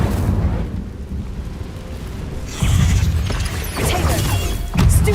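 The Incendio fire spell cast in Hogwarts Legacy: three loud, booming fiery bursts arrive in succession, each with a rushing crackle over a continuous low rumble.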